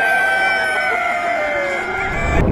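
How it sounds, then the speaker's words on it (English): Chickens clucking while a rooster crows, the long tonal crow ringing clearly over a busy farmyard clatter of fowl, close and loud throughout. "Look at all those chickens."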